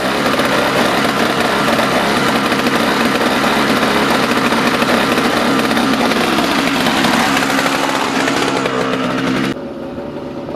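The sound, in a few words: snowblower engine running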